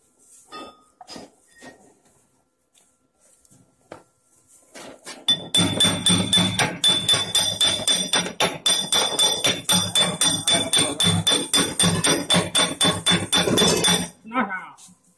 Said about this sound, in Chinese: 用个锤子。